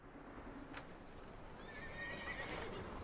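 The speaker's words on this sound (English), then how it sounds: "Sounds like a horse." Horse in Red Dead Redemption 2 giving a neigh and clopping its hooves, the whinny rising briefly early on over a steady hiss of ambient game background.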